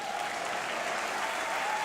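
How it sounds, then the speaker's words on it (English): A crowd at a swimming World Cup final in Berlin applauds a swimmer. The clapping is dense and steady and lasts for the whole short span. It sounds a little distant, with no clear voices over it. "Ladies and gentlemen, give him a cheer."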